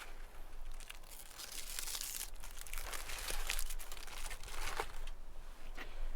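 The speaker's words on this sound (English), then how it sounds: "Carefully unwrap it." A Diode Dynamics light being unwrapped from its packaging on a truck tailgate: continuous close crinkling and tearing of plastic wrap and paper, with sharper rustles scattered throughout.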